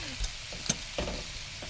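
Onions and sausages frying in a pan inside a camper, a continuous close sizzle with a couple of soft stirring knocks.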